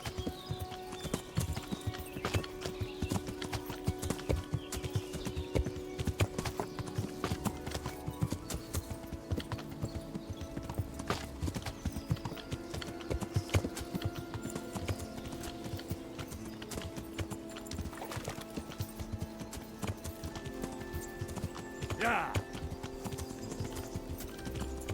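Horse hooves clip-clopping steadily in the Kingdom Come: Deliverance video game, a continuous even rhythm of hoof falls under a low game music drone.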